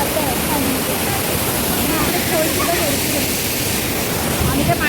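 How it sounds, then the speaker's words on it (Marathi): Devpat waterfall in Chiplun, Konkan, pours with a loud, continuous rushing roar of falling water close by, with people talking faintly over it. "पाणी असं वाहत आहे"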